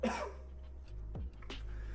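A short burst of coughing and throat clearing after trying to vape, one harsh cough up front followed by a couple of quieter rough clears, close and fairly quiet.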